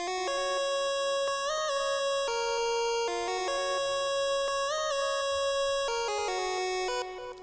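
A bright chiptune synth lead from the Chipsounds plugin plays a stepping melody of clean, buzzy square-wave notes with sharp starts, steady and prominent with nothing else beneath it.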